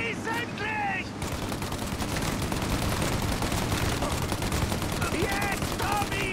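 Sustained gunfire in the video game Mafia Definitive Edition, a rapid, dense crackle of shots filling the scene. Voices speak briefly at the start and again near the end.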